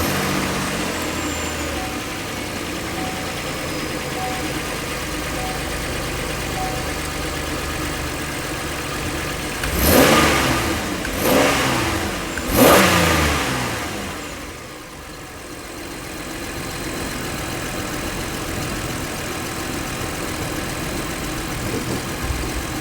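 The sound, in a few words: Pontiac Torrent engine running after EGR tube replacement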